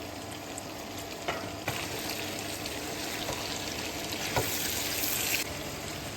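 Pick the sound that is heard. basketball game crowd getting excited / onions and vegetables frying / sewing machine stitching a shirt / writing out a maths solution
onions and vegetables frying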